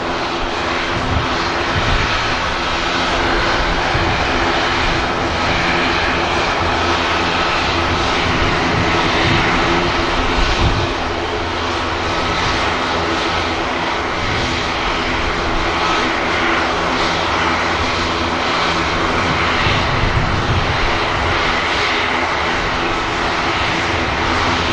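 Aircraft engines hum steadily at Manchester Airport as a TUI Boeing 737 prepares for Corfu, a continuous loud droning rumble with slight swells, heard alone with no talk.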